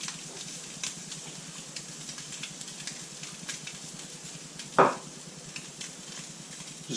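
Lobster on a griddle with a butter and herb mixture, a steady close sizzle and crackle with soft scraping of a utensil and one louder burst of spitting fat partway through, no voices.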